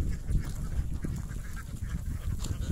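Ducks at a rural duck farm quacking in a dense, continuous chorus, many birds close by calling over one another with no voices present.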